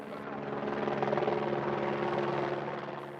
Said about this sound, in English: A helicopter flies the measuring antenna about 30 meters above the surface of the terrain.